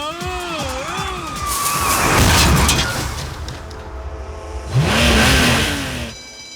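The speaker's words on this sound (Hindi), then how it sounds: "गाड़ी कौन चला रहा है फिर?" A car engine revving loudly as the vehicle drives with nobody in it, rising and falling roars with sweeping whine and a sharp burst near the end.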